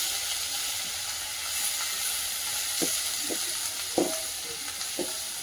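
Slit green chillies frying in ginger-garlic paste make a soft, steady sizzling hiss, with a few light scrapes of stirring near the end.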